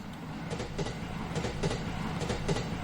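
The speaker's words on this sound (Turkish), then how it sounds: "Ah tren sesi geldi." A train passing in a horror video game: a continuous low rumble with rhythmic clickety-clack wheel beats repeating roughly every second, moderately loud.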